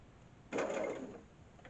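A sewing machine stitches along the edge of an apron in one short, steady whirring run of under a second, which then fades out.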